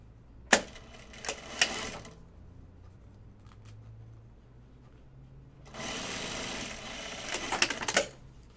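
Two bursts of close sewing machine stitching along a quarter-inch seam, each a couple of seconds long with sharp clicks at start and stop, separated by a quiet pause with faint handling sounds.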